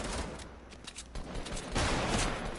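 Gunfire in a first-person shooter game crackles in a short dense burst, a sniper shot among several loud, close reports, with no talk.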